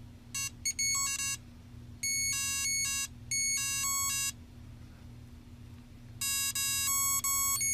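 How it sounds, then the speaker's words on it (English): Bursts of electronic beeping from a Mighty Kong handheld video game, a Donkey Kong knockoff, in several clustered runs of rapid tones with short gaps, over a steady low hum. "Beep, beep, beep, beep."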